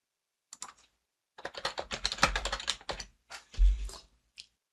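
Quick bursts of typing on a computer keyboard, with clustered key clicks, short pauses between words and a firm final keystroke, close and clear against a silent background.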